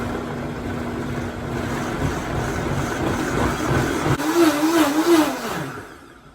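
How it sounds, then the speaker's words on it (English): High-power Vitamix blender pureeing tomato sauce: a loud, steady motor whine over churning liquid, holding one pitch before the tone wobbles and slides downward as it winds toward stopping, with no talking. "Now I do have a high power Vitamix blender, so it goes pretty quickly."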